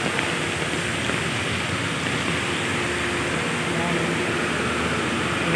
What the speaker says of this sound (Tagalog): Magdamag po ang ulan. Walang katigil-tigil.